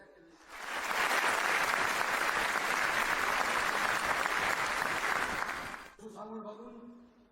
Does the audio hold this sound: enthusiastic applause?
yes